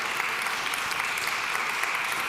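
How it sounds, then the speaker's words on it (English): An audience at a talk gives a big round of applause, with sustained, even clapping from many hands, close and steady throughout. "Please give a big round of applause for Marieke de Goede."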